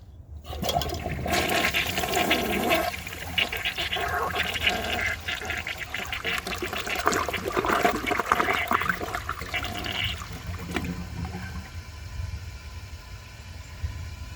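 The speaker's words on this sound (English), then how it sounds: "it definitely doesn't have the perfect flush" A 1990 Peerless concealed jet toilet flushes with a loud rushing gush of water that settles into a quieter refill trickle, heard close up and alone.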